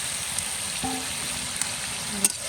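Potatoes and tomatoes frying in a cooked-down spice masala, giving a steady close hiss of sizzling oil with occasional faint stirring and pan sounds.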